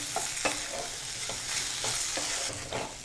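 Ivy gourd fry in a pan with salt, turmeric and a teaspoon of chili, stirred through with a low steady sizzle and several light spatula scrapes at irregular intervals, near and clear, without speech.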